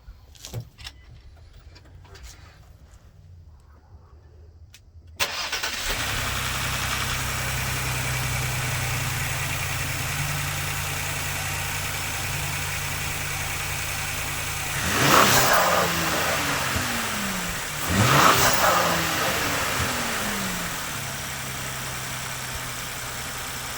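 A quiet, brief rattle, then a stock 2020 Ford Explorer EcoBoost turbo V6 engine cranks and starts, settling into a steady idle before two sharp revs, heard up close.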